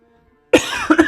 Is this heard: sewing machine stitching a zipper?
no